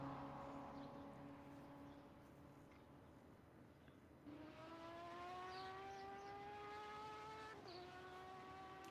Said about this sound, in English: In the background you can hear that Porsche screaming